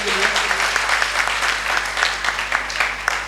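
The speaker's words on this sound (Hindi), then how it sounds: "एक बार जोरदार तालियां बजा दीजिए दादा के लिए।" Loud, dense applause from the audience at a Hindi-Urdu poetry recital (kavi sammelan), sustained and continuous for the whole stretch with sharp individual claps standing out.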